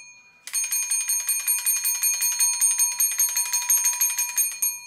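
Bell of a wood frame wall clock alarm ringing, a fast metallic hammering that starts abruptly and keeps up a bright, pulsing clatter close by and loud, with no talking.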